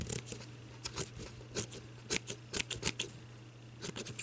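Rough cutting of material for a shabby chic miniature tea set trinket box, heard as a series of short, sharp snips in irregular bursts, close and fairly quiet, with no talking.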